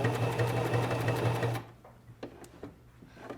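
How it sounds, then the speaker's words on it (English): A Singer Simple 2263 sewing machine stitching on a button runs in a fast, steady whir for about a second and a half, then stops, followed by a few faint clicks and handling sounds, close and alone. "I can go ahead and sew for about 10 stitches"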